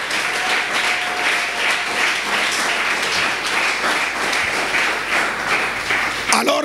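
A church congregation applauds and cheers for God, a steady wash of clapping and voices filling the hall at an even level throughout, with a brief louder burst at the very end.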